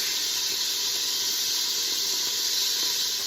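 Minced garlic sizzling in a hot pot while pork carnitas cook, a steady close hiss of frying with no pauses, no talk over it.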